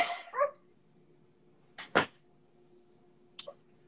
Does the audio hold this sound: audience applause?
no